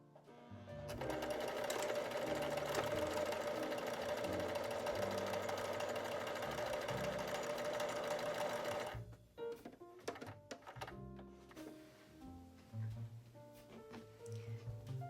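A sewing machine hums steadily for about eight seconds while piecing quilted Christmas stocking panels together, then stops and gives way to clicks and fabric rustling.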